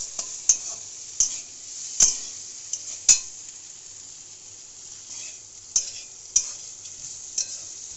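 Potatoes frying in a wok give a constant bright sizzle of hot oil, punctuated by about eight sharp metallic scrapes and clinks of a utensil stirring at irregular intervals, close and without speech.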